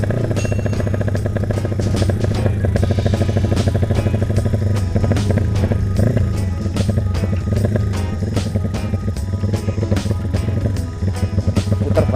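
Honda Tiger motorcycle engine warming up, a steady loud close rumble with fluctuating revs running throughout without pause.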